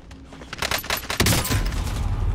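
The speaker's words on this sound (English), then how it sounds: "I thought I was getting shot through the building there." Rapid bursts of gunfire ring out in a PC shooter game, a string of sharp cracking shots followed by a dense, loud volley that carries to the end.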